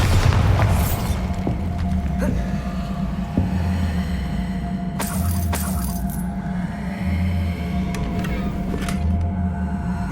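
Bombarda blast spells explode in Hogwarts Legacy on PS5, giving a few booming bursts with a crackling tail over a steady low game ambience and humming drone.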